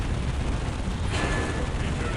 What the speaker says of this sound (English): It's Chaos Dreadnoughts armed with their plasma cannons, making short work of these structures